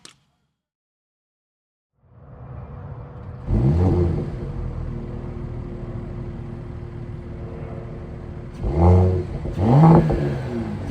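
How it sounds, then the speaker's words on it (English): Mercedes-Benz E53 pulling away, engine note rising from quiet into a steady drone with two stronger revving surges near the end, close and fairly loud with no talk. "let's take the E53 out for a spin and see how different it drives compared to this."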